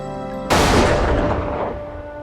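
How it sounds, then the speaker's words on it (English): A single loud rifle shot cracks out on a firing range, followed by a long booming decay with a steady tone humming beneath; no voices are heard. "Conn Smythe doesn't mind the sound of gunfire."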